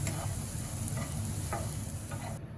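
Bitter gourd sautés and fries in a pan with a steady, close sizzle and a low rumbling undertone, broken by occasional soft ticks of stirring.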